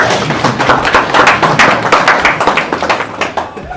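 Audience at a Bumula Sub County education trust fundraising event in a hotel clapping, a dense steady patter of many hands close by that thins out toward the end.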